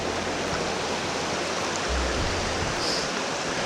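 A mountain stream in Deep Creek in the Smoky Mountains rushes over rocks, a loud continuous broadband wash of flowing water, close by and steady, with no voices.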